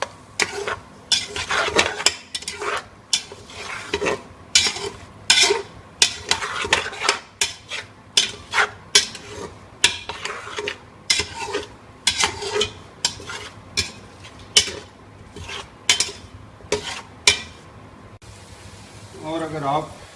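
Peas and potatoes with cumin and spices get stir-fried in a pot for a homestyle pulao, heard as a run of distinct spoon scrapes and clanks against metal over a faint sizzle, ending with a brief quieter stretch.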